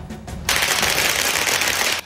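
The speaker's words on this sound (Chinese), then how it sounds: "鞭炮声震天响，彩券行喜气洋洋" Firecrackers go off in a dense, crackling string outside a lottery shop celebrating a jackpot win, loud and continuous for about a second and a half after a couple of separate pops.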